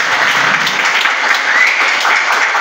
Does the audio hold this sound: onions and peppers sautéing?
no